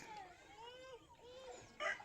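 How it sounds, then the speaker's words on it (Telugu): A fighting rooster crows once, a drawn-out wavering call at moderate distance, followed by a short burst of clucking at the end. "సరే ఇప్పుడు మూడో పుంజుని చూపిస్తాను"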